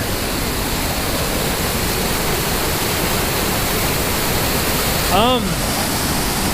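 River near Sonora Pass rushing steadily, a broad constant hiss of flowing water close by, with a short spoken voice near the end.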